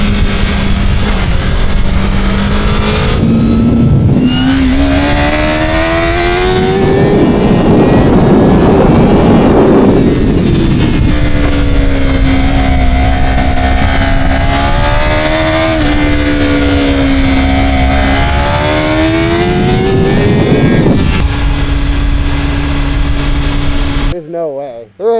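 Aprilia and Honda superbikes at full throttle, loud high-revving engines with rising and falling pitch through gear changes, continuous for most of the stretch with some voice mixed in.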